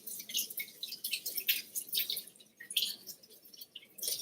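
Hands are rinsed under a kitchen sink tap after handling raw ham hocks and bacon, producing a light, uneven patter of splashing and dripping water, close and fairly quiet with no talking.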